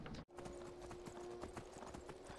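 A horse gallops in the video game Skyrim, its hooves drumming a quick, steady clip-clop rhythm that runs almost without a break, at moderate volume and without speech.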